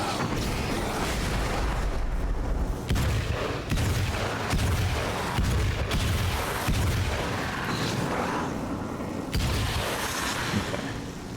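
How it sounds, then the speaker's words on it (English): Grenade blast in the game Alan Wake's American Nightmare: loud, continuous booming rumble with several heavy thuds and crackling, sustained throughout amid game noise. "That was a pretty good use of a grenade, I think."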